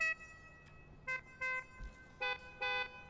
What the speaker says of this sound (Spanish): El claxon que trae